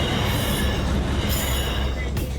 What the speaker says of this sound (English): needed to apply the brake with dynamics to help slow the train down